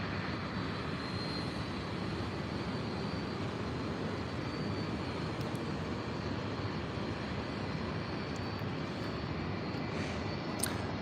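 Airplanes landing and taking off at Tampa International Airport during a busy runway backup, heard as a distant, continuous engine roar that stays steady throughout, with no talking.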